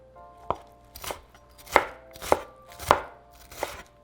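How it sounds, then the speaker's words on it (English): A knife chopping onion and tomato on a cutting board, about six separate firm thuds spaced at a slow, fairly even pace, close and clear, with no talking. "And the onion, tomato, you can cut it however you want to cut it."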